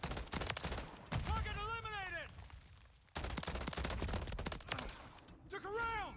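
Rapid bursts of gunfire from the game Modern Warfare 3 crackle in quick succession while someone talks over them.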